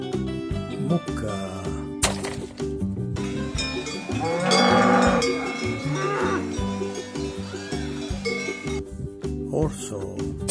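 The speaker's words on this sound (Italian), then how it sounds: "Mucca." A cow lets out one loud, sustained moo over cheerful children's music, with a cowbell-like clang around it.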